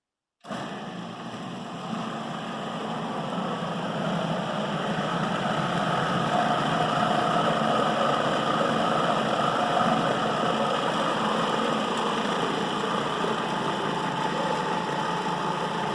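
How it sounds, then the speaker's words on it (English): A blender running through a round of blending vegan, oil-free raspberry brownie batter, a steady loud motor drone that starts abruptly and holds even for the whole stretch. "One more round of blending."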